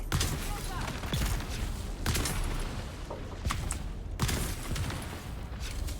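A napalm weapon fires in Dune Awakening, a repeated roaring, crackling burst of flame in several loud surges, with occasional sharper cracks.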